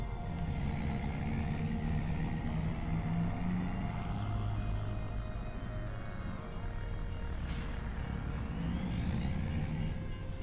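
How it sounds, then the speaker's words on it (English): Train arriving in Farming Simulator 25, a steady rumbling roll with rising and falling whine and mechanical whir throughout, moderately loud and continuous. "Our train's coming."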